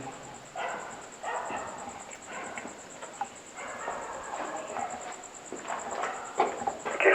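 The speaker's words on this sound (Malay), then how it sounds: "Okey, anjing dah start bunyi." At an abandoned block of flats, a dog barks in repeated, irregular bursts from a distance, fairly faint over a steady high electronic whine and low background noise.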